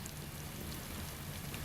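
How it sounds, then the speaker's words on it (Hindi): Rain falling on a lonely road at night, a steady dense hiss that is loud and continuous, with no voices over it. "बारिश"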